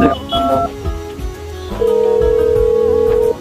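A phone number being dialed in a Bengali comedy drama: short electronic keypad tones in quick succession, then a steady, loud ringback or dial tone that holds for over a second, with voices faintly underneath.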